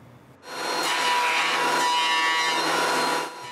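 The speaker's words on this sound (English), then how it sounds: "found some old pine planks lying around and planed them thinner" Old pine planks are fed through a planer, giving one steady, loud broadband whine of wood being cut. It starts abruptly after a short pause, holds evenly for about three seconds, then drops off, with no voices.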